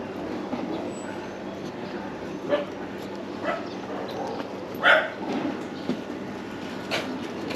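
A dog gives a few short barks and yips at a distance over steady background noise on a motorcycle ride, with faint voices nearby.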